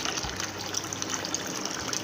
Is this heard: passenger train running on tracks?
no